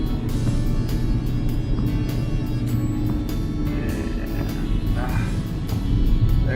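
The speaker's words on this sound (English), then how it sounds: "Well, a truck coming up behind me." A big dump truck drives up from behind on a dark, snowy winter road, its steady engine rumble and tyre noise growing louder toward the end, with repeated faint clicks throughout.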